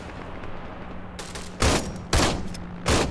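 Three loud, sharp shotgun blasts firing buckshot in Arma 3 ring out at uneven intervals, each a punchy bang with a short tail over quiet background game ambience.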